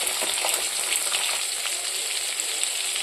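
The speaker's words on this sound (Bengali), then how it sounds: "এইবার এই তেলের মধ্যে আমি যে ঝিঙেগুলোকে কেটে রেখেছিলাম সেই ঝিঙেগুলো আমি দিয়ে দেবো। ঝিঙেগুলো আমি ভাজতে লাগবো" Sliced ridge gourd fries in hot oil in a pan, giving a steady, loud sizzle with a few crackling pops and no pauses.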